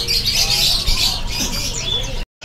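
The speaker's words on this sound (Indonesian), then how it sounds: "Ini untuk penampakan burung cucak raja nih." A caged cucak raja, a straw-headed bulbul, at a bird market stall, calling with loud, bright chirping phrases throughout, then a sudden cutoff near the end.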